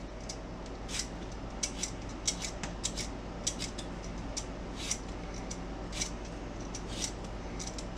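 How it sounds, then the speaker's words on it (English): A hand peeler scrapes potatoes being peeled for dehydrating, making quick, crisp strokes that come in irregular bursts over a quiet kitchen background. "help me peel them with that extra peeler"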